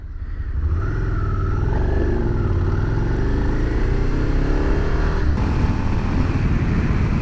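Suzuki SV650 motorcycle engine pulling steadily under load while riding, a loud continuous drone that rises in pitch as it accelerates, with a gear change partway through and wind rush throughout.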